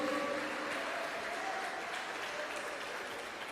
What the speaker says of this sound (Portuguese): Pode aplaudir o Senhor, creia nisso, receba isso